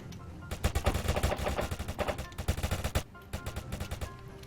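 Gunfire in a shooting video game played on a computer, rapid bursts of automatic shots and overlapping fusillades, loud and close, with a brief pause before more scattered bursts.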